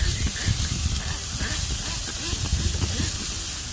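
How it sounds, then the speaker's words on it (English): Basting liquid sprays onto ribs on a backyard barbecue grill, making a steady, close hiss throughout with a soft crackling sizzle underneath. "Go ahead and give them another quick spray."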